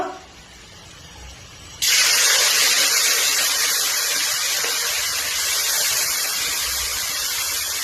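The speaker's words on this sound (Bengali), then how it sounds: "কড়াই গরম হয়ে গেছে মাছগুলো দিয়ে দিব" Fish hits a hot wok and bursts into a loud, sustained sizzle and hiss that starts abruptly and carries on evenly to the end, after a quieter moment of kitchen background.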